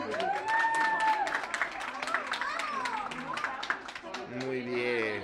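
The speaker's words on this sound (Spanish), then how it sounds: "Fuerte el aplauso una vez más." An audience of families at a children's party claps in a burst of quick, dense applause under shouted voices and chatter, close and lively, thinning out toward the end.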